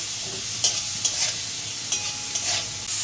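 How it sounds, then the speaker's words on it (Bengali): Carrots frying with salt in a hot pan, a steady hiss broken by a few sharp scraping stirs, close and fairly loud throughout. "গাজরটা ভালো করে একটু ভেজে নেব।"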